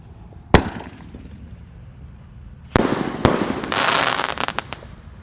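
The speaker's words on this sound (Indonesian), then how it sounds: "Dan siap meluncur bosku. Basoka 2 Tor." A Basoka 2 firework launches with a sharp initial bang, then after a pause fires two more loud shots followed by a crackling burst of rapid pops outdoors.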